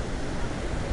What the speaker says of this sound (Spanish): Aquí está la cascada Atarraya, la más grande de todas.